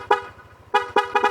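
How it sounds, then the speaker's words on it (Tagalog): Aftermarket loud horn fitted to a Yamaha Lexi 155 scooter, four short, loud, close honks with a brassy, truck-like tone, the first single and the last three in quicker succession. "Ito guys, sound check tayo sa ating loud horn."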